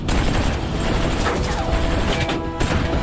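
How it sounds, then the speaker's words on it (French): Machine gun fire in a desert war battle scene, a loud, continuous stream of rapid shots with crashes and booms packed densely throughout, close and unbroken. "c'est la mitrailleuse qui nous tire dessus!"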